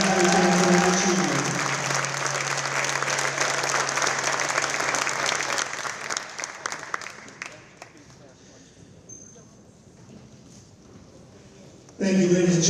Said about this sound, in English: Let's give them a big round of applause and congratulate them for their achievement.